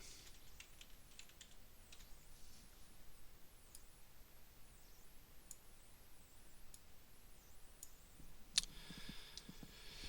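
Rapid clicking of computer keys sounds steadily and close, soft light taps running in an uneven stream of typing with no voice over it.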